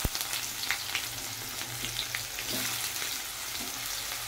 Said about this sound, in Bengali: চলো পেঁয়াজটা হালকা একটু নুন দিয়ে ভেজে নিই।